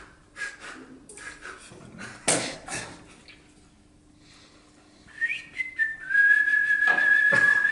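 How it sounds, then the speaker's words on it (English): Someone whistles during an online chess game, first in breathy fragments, then in a sustained, steady high tone near the end, loud and close. "Not the whistling again! Electric whistling!"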